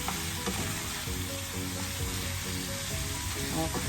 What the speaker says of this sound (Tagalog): i-mix na to aron ma-even ang pagkuan sa chicken curry